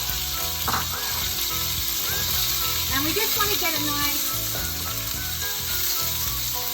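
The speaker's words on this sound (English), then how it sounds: "You can hear that sizzling away." Chicken pieces fry in hot oil in a pan with a loud, constant sizzle and crackle, and a person speaks over the frying.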